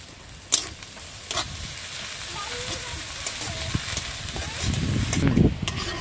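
Dried shrimp frying in a pan, with a soft, continuous sizzle broken by sharp stirring scrapes and knocks, growing busier and louder toward the end, close with no talking.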